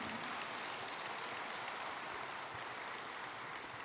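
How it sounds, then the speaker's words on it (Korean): Applause from an audience at the opening ceremony of the 20th World Korean Business Convention, a faint, steady patter of many hands clapping with no speech over it. "박수 한번 보내주시면 고맙겠습니다"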